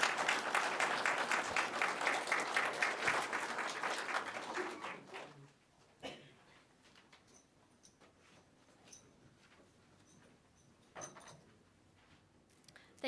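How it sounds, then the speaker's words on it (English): Audience applause at a county 4-H awards program, loud clapping for about five seconds that fades out, followed by quiet room noise with scattered small knocks and shuffles. "let's give them all a round of applause"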